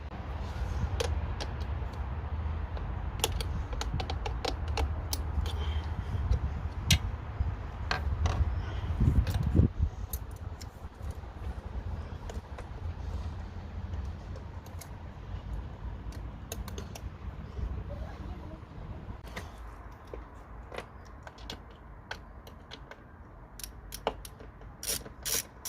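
Hand tools working under the hood of a Subaru engine as the throttle cable, sensor and pipes come off, with scattered sharp clicks, ratcheting and rubbing scrapes against a low hum, close and fairly quiet.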